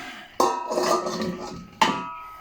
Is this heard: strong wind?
no